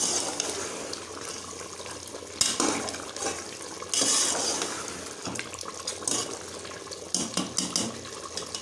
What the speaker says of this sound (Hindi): इसको मैं छानने में जो है निकाल के इसके ऊपर से ठंडा पानी में निथार लूँगी